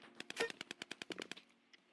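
Rapid burst of SMG fire in a video game, about a dozen evenly spaced shots in quick succession under two seconds, fairly faint, with no talking.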